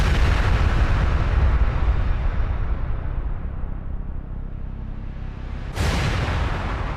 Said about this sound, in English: These bombs may have been hitting their targets